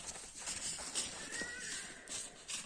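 A draft horse mare whinnies in a rising, wavering call amid hooves clip-clopping nearby at a horse sale yard near Ternopil, with faint chatter and rustling in the background.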